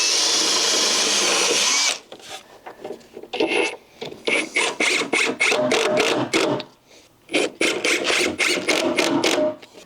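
Power drill driving screws through deck boards into joists over a concrete slab, heard as a long continuous whir followed by a rapid series of short bursts, each with a brief pause between, close and loud.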